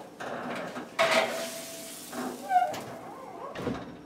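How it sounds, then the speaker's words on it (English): Oven with roasted tomatoes being taken out, giving a few clanks and scrapes of a tray and door, a squeaky metal slide, then a final thump, moderately close with no talking. "So I'll go ahead and take the tomatoes out of the oven."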